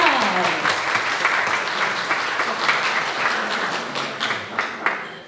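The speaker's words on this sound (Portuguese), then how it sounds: "Uma salva de palmas para aqui" Audience applause at a book event in a library, sustained crowd clapping for about five seconds that thins slightly toward the end.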